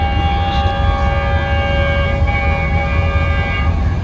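Horn of a G40 diesel locomotive sounding at night on an Indian railway line, a sustained multi-tone whistle held steadily throughout over a loud, continuous rail rumble.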